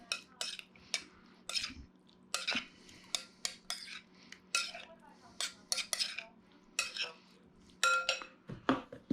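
Frozen vegetables being stirred and folded in a cool pan, with a utensil scraping and clinking against the metal in quick, irregular strokes, close and fairly loud, alone without talk.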